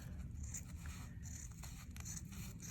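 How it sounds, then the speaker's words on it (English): Fabric scissors snip through cloth while bunny shapes are cut out for a finger puppet craft, giving soft, repeated close scraping and rasping cuts over faint background noise. "So I'm going to go ahead and get those cut out."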